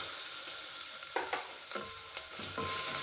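Onions frying in hot oil with red chillies and asafoetida for cabbage kootu, a steady sizzle broken by several scraping stirs of a spoon against the pan.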